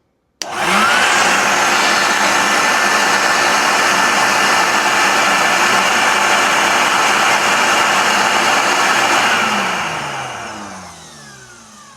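A loud electric air blower starts abruptly and holds a steady, whining roar for about ten seconds while pushing dirt out of an air conditioner pipe, then winds down as it shuts off.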